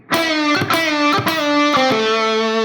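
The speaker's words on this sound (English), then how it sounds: "Here's the pre-bend release done a few times in a row." On an electric guitar, a pre-bend release is plucked several times in a row, each attack sliding down in pitch before the next, clear and sustained with a light overdriven tone.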